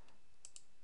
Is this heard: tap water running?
no